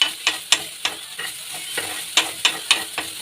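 Vegetables frying in a pan are stirred with a utensil, about a dozen quick scraping clacks against the pan over a soft sizzle, close and fairly loud.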